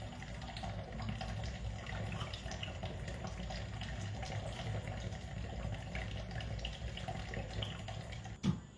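Tap water runs steadily and close for several seconds while something is washed beneath it, ending with a brief knock near the end.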